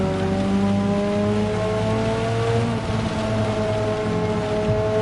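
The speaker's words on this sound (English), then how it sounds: "You just hear the car sliding around all over the place." A race car's engine drones steadily in layered, sustained tones as it slides and skids around in a racing video game on a Tokyo circuit, loud and close, with no voices.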